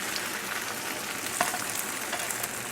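Egg frying in a pan over a very high flame for a broccoli and mozzarella omelette, a steady close hiss with a few faint clicks and no talk.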